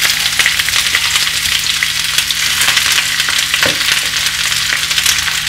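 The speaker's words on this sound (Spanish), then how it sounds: "Las espinacas las vamos a ir así, cocinando, rehogándolas y prácticamente se nos van a quedar en nada." Spinach sautéing in a pot for a spinach-and-ricotta malfatti dish, a steady close-up frying hiss with crackle throughout and a brief utensil scrape partway through, no voices.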